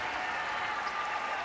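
Home crowd at a UConn women's basketball game at Rutgers applauding late in a lopsided game, a steady, moderately distant wash of clapping with no breaks.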